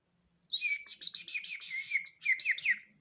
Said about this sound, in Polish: Nagle zjawia się pan Słowik.